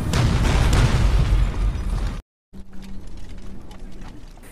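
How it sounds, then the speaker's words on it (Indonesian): A French ammunition depot explodes in a war strategy video game, a loud, roaring blast lasting about two seconds, cut by a brief silence, then continuing crackling rumble. "Akhirnya gudang amunisi di sana berhasil dihancurkan"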